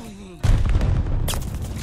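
A sudden heavy blast erupts in the Call of Duty: Vanguard campaign, followed by rumbling, debris and a second sharp burst, loud and close after a brief quieter lead-in.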